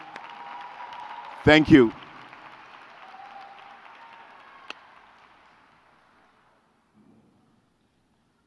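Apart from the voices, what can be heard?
applause at graduation ceremony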